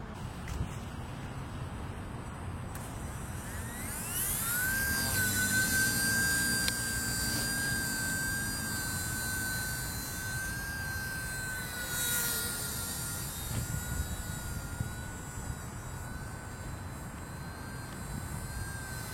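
A small thrown-launched model airplane flies overhead, its electric motor giving a steady high whine that rises in pitch and holds at a sustained drone over outdoor background noise for most of the stretch.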